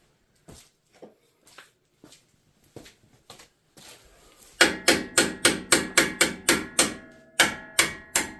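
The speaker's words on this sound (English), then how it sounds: "A little hammer." Light taps from a small hammer during a leveling kit install on a 2023 Ford F-150 start sparse and soft, then give way to a rapid series of loud, sharp metallic strikes in steady rhythm.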